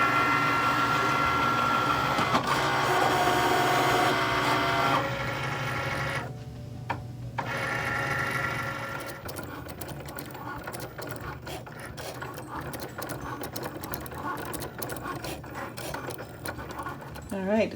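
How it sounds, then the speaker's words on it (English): Cricut cutting machine slicing vinyl on a mat, giving a steady run of mechanical whirring, ratcheting and clicking with changing motor tones, close and continuous for the whole stretch with no talk. "now the Cricut's ready to go, and I'm going to push the C button for cut"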